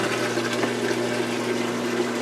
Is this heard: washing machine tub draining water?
yes